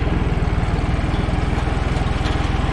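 A tractor pulls a single-shank subsoiler that lays subsurface drip irrigation hose, its engine straining in places. The close, loud rumble runs steady with a rapid, even pulse and no talking.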